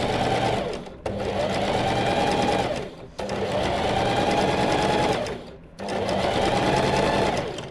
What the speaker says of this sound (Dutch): Ga ik stikken, dan is het op je voetpedaal drukken en hij gaat gewoon